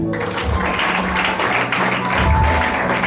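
A church congregation at a New Year's Eve crossover service claps and cheers for Jesus, a dense, loud wash of applause filling the space with no pauses.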